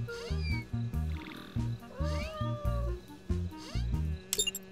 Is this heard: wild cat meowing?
yes